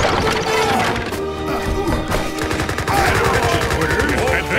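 Video game troops open fire on command, giving rapid, overlapping volleys of gunfire that crackle loudly and continuously, mixed with short spoken unit orders.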